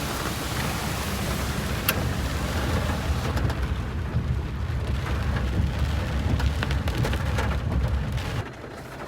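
Heavy rain pours down in a sudden downpour, a dense, loud, continuous hiss with occasional sharper drips, dropping slightly in level near the end.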